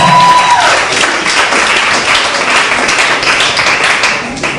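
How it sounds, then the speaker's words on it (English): A school talent-show audience gives a round of applause for a student, the clapping loud and dense throughout with a brief tone at the start and a noisy crowd wash underneath. "So let's give him a round of applause for that."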